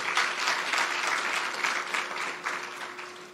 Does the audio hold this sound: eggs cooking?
no